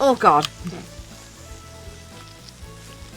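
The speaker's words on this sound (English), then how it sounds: "Excuse me while I burn the onions." Onions fry in the Cooking Companions video game with a soft, steady sizzle that stays faint in the background after a brief exclamation from a man at the start.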